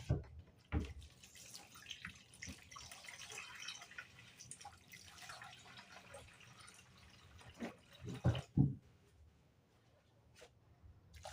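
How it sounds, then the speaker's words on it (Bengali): Water runs softly from a tap in a steady stream into khichuri cooking, then a few clanks of a pot or utensil sound near the end. "এখন পানি দিয়ে দিব"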